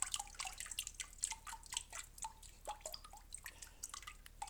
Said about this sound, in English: lots of water is running out the bottom